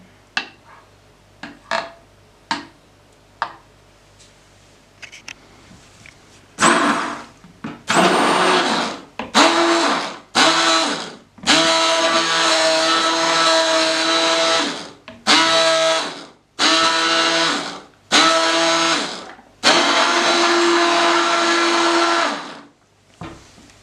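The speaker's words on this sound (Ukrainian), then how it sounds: "І пробиваю блендером." Several light taps first, then a blender roars in repeated loud pulses blending a hazelnut chocolate ice cream mixture, some short and some sustained for several seconds, whirring close up.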